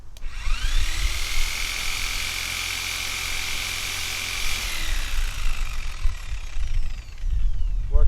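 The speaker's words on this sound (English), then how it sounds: "Now the 10 amp buffer." A 10 amp buffer powered directly from solar panel DC output spins up with a rising whine, holds a steady high-pitched hum, then winds down, loud and close.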